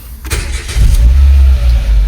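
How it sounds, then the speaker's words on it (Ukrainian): A car engine cranks and starts after a clutch-pedal limit switch was replaced in a repair shop: brief starter whir, then a loud, close, steady idle rumble settling in, with no talk. "Машинка заводиться."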